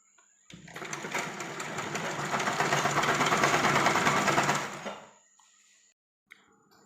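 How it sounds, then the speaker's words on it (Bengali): A sewing machine stitches a homemade dress in one steady, loud run of about four and a half seconds, starting abruptly and winding down, followed by near silence and a faint click. "এই যে দেখুন জামাটা সেলাই করলাম"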